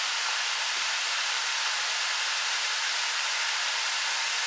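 Chicken livers fry in a pan for a Southern crispy dish, giving a loud, steady, unbroken sizzle that holds evenly throughout with no talking.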